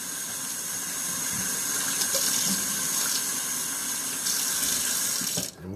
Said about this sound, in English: I'm gonna hit it one more time with this water.